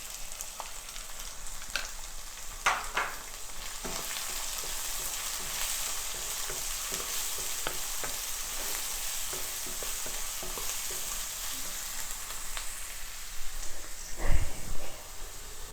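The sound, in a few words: chopped shallots frying with salt, stirred in pan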